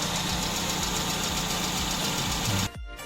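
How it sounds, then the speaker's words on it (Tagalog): The engine of a Kia Rio car, just started after a no-start fault, idles steadily and close with a rough, even rumble before the sound drops away abruptly near the end. "Yan po, umaandar yung makina."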